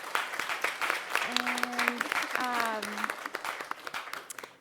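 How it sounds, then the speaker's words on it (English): Audience applause for a panel of non-traditional medical students at a 2014 event, dense clapping filling the room throughout, with a speaker's voice talking over it. "let's give them a round of applause."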